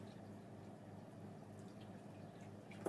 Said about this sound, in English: So we're just going to drop a bit of water into both.